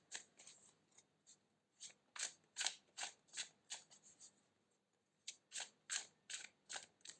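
Crisp, rapid riffling bursts of tarot cards being shuffled, close by, in uneven clusters with short pauses, no talking.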